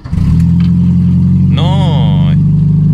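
A Ford Fiesta Mk3 engine catches and settles into a steady idle around 1,500 rpm, loud and close with a constant low drone, a brief higher whine joining midway.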